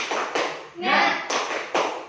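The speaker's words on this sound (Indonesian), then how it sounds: "Tepuk semangat" Classroom students doing the 'tepuk semangat' spirit clap, a rhythmic patterned clap in a few close bursts of claps, with voices chanting along.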